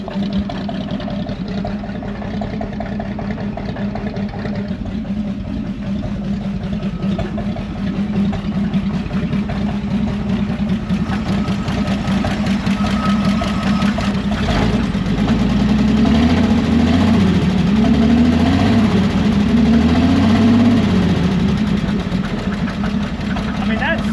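An old Chevy Bel Air inline-six engine, running after 45 years, idling close by with a steady rumble, loose parts rattling over it, and a slight rise in revs toward the end.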